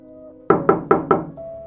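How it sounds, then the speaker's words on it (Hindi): Four loud, evenly spaced bangs on a door in a Hindi village setting, heavy knocks in quick succession with no talking over them. "इतनी जोर से दरवाजा क्यों पीट रहे थे"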